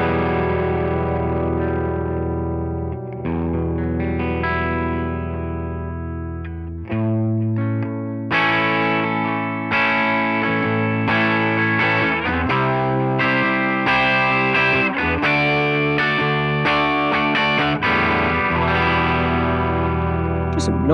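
Electric guitar chords ring out through a Fender Tone Master Pro modeling a '65 Deluxe Reverb amp, with reverb and light effects, played continuously and fairly loud with a warm, slightly overdriven tone.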